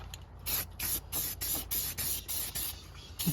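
Repeated short bursts of a spray can hissing, about ten evenly spaced sprays, close and steady, with no talking, painting the engine bay of a Lexus IS300 with a built 2JZ engine.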